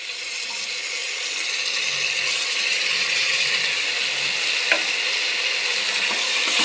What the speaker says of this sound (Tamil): நல்லா இஞ்சி பூண்டு பேஸ்ட் வாசம் நல்லா போகிற வரைக்கும் நம்ம நல்லா வதக்கிக்கணும்